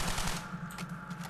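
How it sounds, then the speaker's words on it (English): MP40 submachine gun emptying a full clip in Call of Duty custom zombies, a rapid continuous burst of automatic gunfire, close and loud, lasting just over a second. "Listen to this, right? This is the full clip of the MP40."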